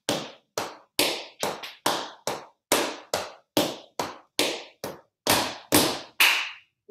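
Tap shoes striking a hard floor and hands clapping in a beginner tap class: a crisp, close series of about seventeen sharp hits in uneven steps-and-claps rhythm, each separated by brief silence.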